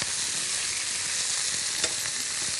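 Fish fries gently in a pan on a cooking show, giving a steady, even sizzle with faint crackles throughout. The sound is moderately quiet and no one speaks.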